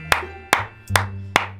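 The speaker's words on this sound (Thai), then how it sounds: "ปรบมือครับ" Four sharp, evenly spaced hand claps ring out one after another over a low steady tone, each crisp and close with a short decay.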